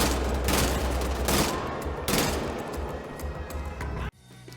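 Heavy, continuous weapon fire from Wolfenstein: The Old Blood, with sustained loud bursts and deep low rumble, then cutting off sharply near the end to a faint remainder.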